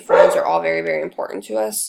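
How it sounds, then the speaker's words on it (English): A dog barks in the background while someone talks steadily about her hobbies and family, the barking mixed under her voice throughout. "Sorry about the dog barking in the background"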